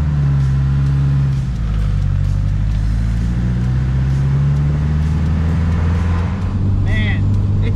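The engine of a car with a freshly built motor drones steadily through a short drive around the block, a continuous low rumble with people talking over it.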